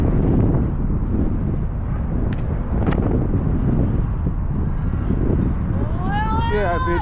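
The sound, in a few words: wind while riding home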